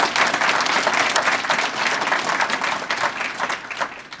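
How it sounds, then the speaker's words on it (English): A crowd at a graduation ceremony breaks into sustained applause, a dense, loud wash of clapping that holds steady for several seconds before easing slightly. "Would you give Chief Molina another gigantic round of applause?"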